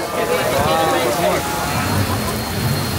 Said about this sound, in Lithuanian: iš niekur pasipylė stiprus lietus